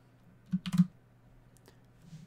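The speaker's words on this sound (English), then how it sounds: "Hit enter, and we can type rename" Typing on a computer keyboard: a quick cluster of four or five close, distinct key clicks, then a couple of faint taps, over a low steady hum.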